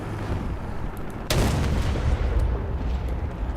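A single sharp, loud tank cannon shot in War Thunder booms once mid-clip, followed by a rumbling decay over the low background din of the tank.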